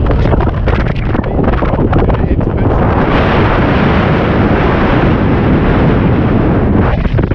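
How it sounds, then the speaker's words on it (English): Strong wind buffeting a microphone high in the Cairngorms mountains, a loud, continuous roaring rumble with heavy gusts and no pauses, no voices. "The wind's pretty bad"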